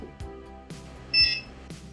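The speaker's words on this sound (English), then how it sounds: "once you hear the confirmation beep" An EZBoard 3D-printer controller gives a short, bright electronic confirmation beep after an EEPROM reset, a single tone heard close among soft periodic ticks and quiet background music.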